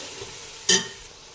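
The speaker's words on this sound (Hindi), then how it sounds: "ये देखो इस तरीके से हमने ये मिर्चें भी डाल देंगे" About eight or nine chopped green chillies dropped into a hot pan while chana pulao is cooked, giving one sudden loud burst of sizzling that quickly fades back into a soft steady frying hiss.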